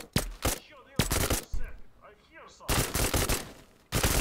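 Guards are shot in the video game Thunder Tier One, with several loud bursts of rapid automatic gunfire separated by short pauses and muffled voices talking between volleys.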